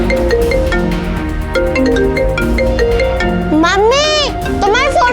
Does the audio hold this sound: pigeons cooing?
no